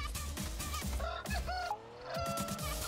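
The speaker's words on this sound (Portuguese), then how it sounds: "Caralho, tem música de galinha" Chicken-themed music plays in the PUBG video game, a busy tune built from clucking and crowing rooster sounds over a steady beat, loud and continuous with a brief dip near the middle.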